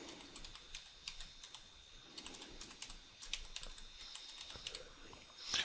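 A password goes into a computer keyboard as a quiet run of irregular key clicks, bursts of taps with brief pauses and a louder click at the end, with low room hiss beneath.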